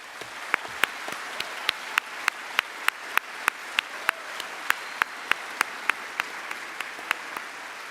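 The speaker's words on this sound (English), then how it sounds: "That's what they call prolonged applause." Graduates being applauded at a Bond University graduation ceremony for the business and law faculties, heard as a long run of sharp, evenly spaced claps standing out over a softer background of room noise.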